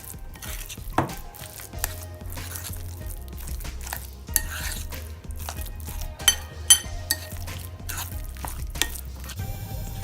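Shrimp mixture for prawn burgers stirred in a bowl, with repeated scraping and light clinking of utensil against the dish in an uneven rhythm, close and moderately loud, with no talking.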